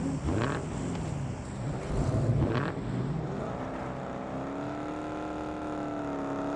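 A car engine in a video game revs and whines, rising and falling in pitch, then settles into a steady rising drone, close and loud, with no talking.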